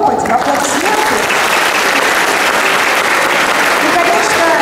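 Audience applause at a university alumni forum in a hall, sustained thick clapping from a large crowd, loud and even throughout, with faint voices underneath.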